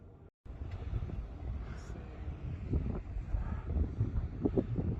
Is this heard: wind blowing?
yes